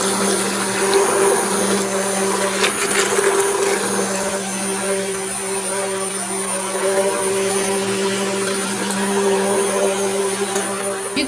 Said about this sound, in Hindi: यहाँ पे इलेक्ट्रिक ब्लेंडर लेंगे और उससे हम जो इसको मिक्स करेंगे अच्छी तरीके से